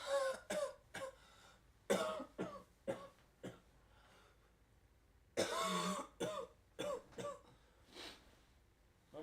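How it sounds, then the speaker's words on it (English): A sick person coughing repeatedly in a series of harsh, close bursts, some clustered in twos and threes, with brief gaps of quiet between them while gaming with a dog nearby. "I know I'm coughing."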